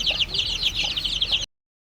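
Chicks near tethered goats in a village setting give a busy stream of high, rapid cheeping and peeping, close and continuous, with a faint low cluck underneath, cutting off abruptly.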